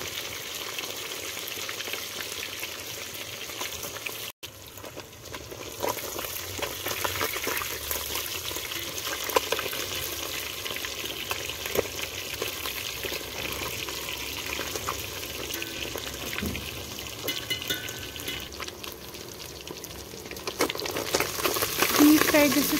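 Gade fish frying on one side in a pan with spinach and tomato, a steady moderate sizzle running continuously with occasional stirring clinks and faint background noise.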